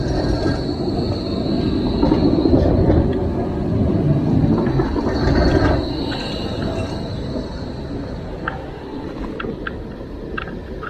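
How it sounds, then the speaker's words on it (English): A tram rumbles past nearby with a heavy low roar, followed by high metallic squeals and clicks from the wheels as it moves on. "Another tram."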